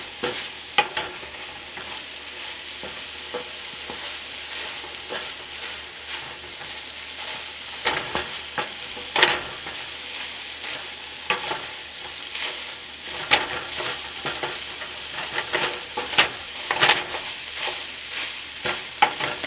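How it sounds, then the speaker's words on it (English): Eggs sizzling steadily in a hot pan while a spoon presses them down to brown the bottoms, with scattered scraping and tapping clicks over the continuous frying hiss. No talking. "I like to press my spoon down on my eggs to kind of get them to burn the bottoms a little bit"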